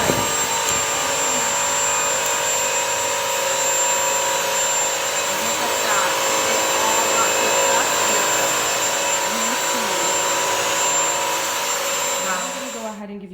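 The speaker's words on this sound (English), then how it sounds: "I'm going to be dropping an egg on the floor, and we're going to vacuum over it" A Bissell Crosswave multi-surface wet vacuum running over a dropped egg on the floor, a loud steady motor whine with a constant high tone that holds throughout before winding down at the end.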